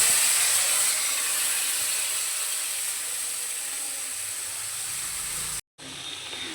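Mustard paste and rinsing water hitting a hot pan of drumsticks, a loud, steady close hiss that fades slightly, cuts out abruptly for a moment, then resumes.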